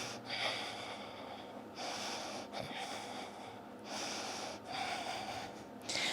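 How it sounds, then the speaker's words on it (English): Slow, deep breaths taken during a yoga boat pose core hold, with long airy inhales and exhales repeating in a steady rhythm, close and fairly soft, with no talking over them. "Deep breathing."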